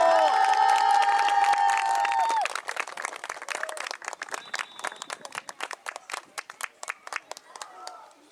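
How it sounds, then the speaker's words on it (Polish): Applause and cheering at a youth football awards ceremony in Chełmek, opening with a loud sustained shout from the crowd and then settling into dense clapping that continues steadily to the end. "Wielkie brawa!"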